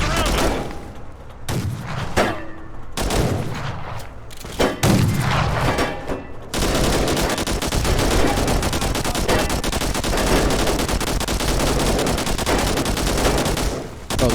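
Gunfire in a Fallout New Vegas mod, first a few separate sharp shots and then a dense, sustained burst of rapid automatic fire, loud and close.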